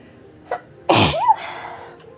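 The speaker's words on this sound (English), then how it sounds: "I'm fixing to sneeze." One loud, close sneeze bursts out after a brief sharp inhale, ending in a short vocal tail.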